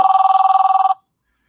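Telephone bell ringing loud and close in one rapid, evenly trilled burst just under a second long, then abruptly stopping into silence.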